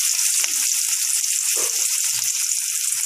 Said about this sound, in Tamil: வெந்தயம் எல்லாம் நல்லா பொரிஞ்சிருச்சு இப்போ வெங்காயம் போட்டுக்கலாம்